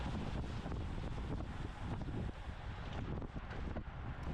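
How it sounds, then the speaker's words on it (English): Wind buffets the microphone during a bicycle race, a dense, loud rumbling roar that blows steadily throughout with small gusty surges. "it's pretty windy actually through here"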